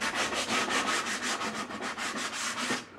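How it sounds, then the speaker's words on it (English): A random orbit sander with 120 and 180 grit pads runs across a wooden coat rack, a close, steady abrasive whir with a pulsing rhythm of rapid passes for three seconds. "I'm going to sand using 120 and 180 grit pads and the random orbit sander"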